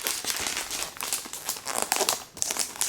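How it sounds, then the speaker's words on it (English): Plastic wrap peeled off a new 11.6-inch MacBook Air during unboxing, close up: continuous crinkling and crackling with short tearing bursts over about three seconds, no voice. "Peel off the plastic."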